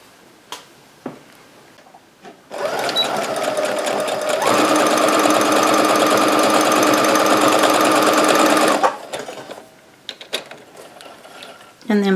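A sewing machine stitches quilt block pieces for a basic star sampler block, running in one steady loud burst of about six seconds, with quieter handling sounds of fabric before and after.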